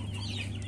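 Day-old Arbor Acres broiler chicks in a homemade brooder, cheeping together in a dense, continuous chorus over a low steady hum.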